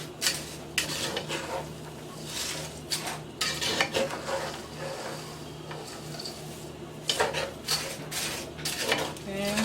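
Food is being mixed in a pot for a Thanksgiving dinner, with a spoon scraping and knocking against the metal sides in irregular bursts. The close clatter is interspersed with brief pauses and a faint sizzle.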